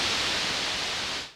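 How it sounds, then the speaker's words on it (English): Pink noise from a Korg KingKORG modeling synthesizer oscillator: a brief, steady, even hiss with no voices, fading out at the end. "Let's go to pink noise."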